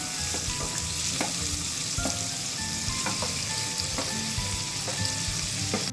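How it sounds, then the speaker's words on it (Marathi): Onion sautéing in a pan with cumin and a pinch of asafoetida for Malvani bhindi bhaji: a continuous crackling sizzle with regular light clinks and scrapes of a spoon against the pan, close and steady. "आपल्याला कांदा चांगला परतून घ्यायचा"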